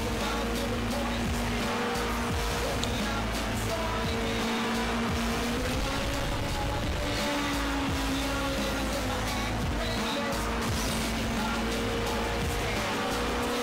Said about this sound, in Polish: Bardzo ładnie śmiga ten samochód.